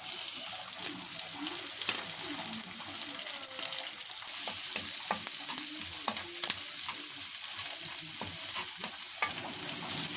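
Onion frying for chicken curry in a pan, a steady bright sizzle with repeated stirring scrapes and clacks throughout, close and continuous with no talk.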